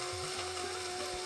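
A kitchen mixer jar whirring at high speed as it grinds a sesame seed spice mix (ellu podi), a close, steady, buzzing motor drone with no talking.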